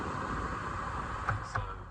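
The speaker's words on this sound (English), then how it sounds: "Dropped down both the windows, set the blower to max, which sounds like this." A car's ventilation blower running at maximum with both windows down gives a steady, fairly loud broadband rush of air that holds evenly throughout, with two brief clicks or knocks near the end.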